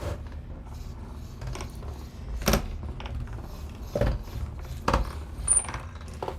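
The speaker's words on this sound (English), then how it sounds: "I'll run that through my die cut machine." A tabletop die cut machine crank-feeds a taped paper and die sandwich through its rollers, giving soft repeated ratcheting clicks and a few sharper knocks at irregular intervals, quiet and close in a still room.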